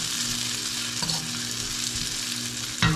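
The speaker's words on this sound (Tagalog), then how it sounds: "Ayos na yung pagkagisa nito. Isali natin uli yung bawang." Garlic sautéing in a hot pan, a steady, dense sizzle with occasional stirring scrapes, ending in a louder clatter.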